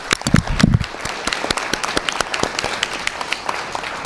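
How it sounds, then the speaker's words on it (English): Audience applause at a student awards ceremony, a dense wash of many hands clapping with sharp individual claps standing out, steady and fairly loud throughout. "So give yourselves a round of applause."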